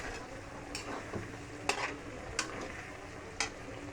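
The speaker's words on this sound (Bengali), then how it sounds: "গরম মশলা, ধনে, পেঁয়াজ, রসুন, আদা, লঙ্কার গুঁড়ো এই দিয়ে খাসির মেটে ভালো করে গরম জল করে ধুয়ে মশলা কষানো হচ্ছে।" Goat liver sautés in a pan with garam masala, coriander, onion, garlic, ginger and chilli powder, a steady soft sizzle broken by a few sharp spatula scrapes and clinks, close and without talk.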